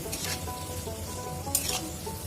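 Small cut pieces of papad fry in hot oil with a continuous close sizzle, broken by a couple of brief scraping stirs of a utensil, and no one speaks.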